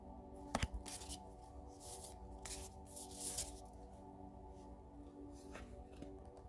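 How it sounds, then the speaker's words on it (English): A deck of cards is shuffled at close range, giving soft, quiet riffling and rubbing sounds in short bursts with no talking. "You hear me shuffling."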